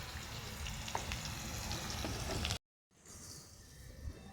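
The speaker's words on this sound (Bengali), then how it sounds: "আলুটা ততক্ষণে ভাজা হোক।" Potatoes fry in a pan with a steady close sizzle, a few stirring scrapes breaking through, a brief silent cut, then softer sizzling with no talk.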